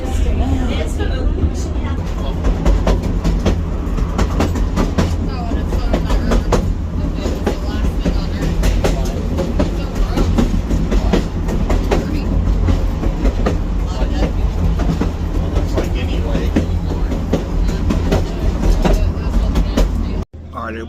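A 1924 El Dorado observation-lounge railroad car rolls along on a short excursion train run, with a steady loud rumble, rhythmic clickety-clack of wheels over rail joints and a murmur of passengers underneath.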